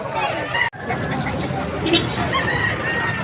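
At a livestock auction market in Padre Garcia, Batangas, chickens cluck and a rooster crows amid a busy background, with people talking nearby.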